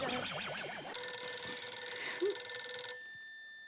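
A telephone rings with a sustained electronic tone over a warbling background sound, then cuts off abruptly, leaving a quieter hum.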